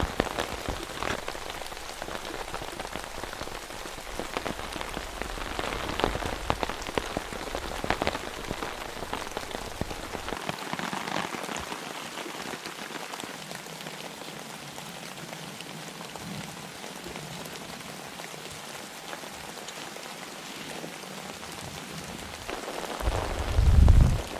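Steady heavy cold rain pattering on a surface in fog, a continuous dense hiss of drops that holds throughout with no voices.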